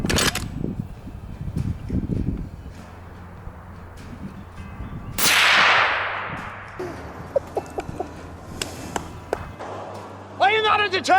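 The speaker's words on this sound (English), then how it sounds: "Barrett rifle, Thunderbeast Ultra 50 suppressor to manage the sound and the recoil" A single sharp suppressed blast from a Barrett .50 rifle fitted with a Thunderbeast Ultra 50 suppressor, fired at a watermelon, bursts out loud mid-clip and decays over about a second, with voices talking beforehand and small knocks afterward.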